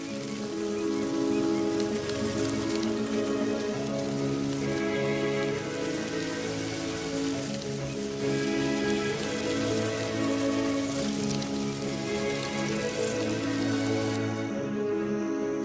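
Rain falling on open savanna ground as the earth softens, a steady dense patter of drops that continues throughout, loud and close, with tonal music playing underneath.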